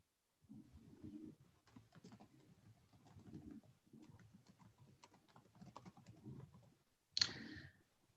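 Soft, irregular bursts of typing on a computer keyboard, clicking away for several seconds before a short, sharp electronic chirp near the end.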